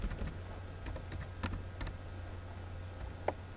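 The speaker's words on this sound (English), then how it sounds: "This time I'll go ahead and type in a value," Typing on a computer keyboard, a scattered run of light key taps with a few sharper strokes, close and quiet over a steady low hum, with no talk.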